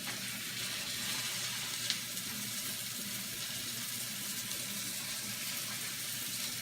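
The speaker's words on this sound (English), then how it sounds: "We're going to lay it in there so it's sizzling nice. I'll let that start frying." Flour-coated elk heart slices sizzle and fry in a hot pan, a steady dense hiss running close and continuous throughout, with no talking.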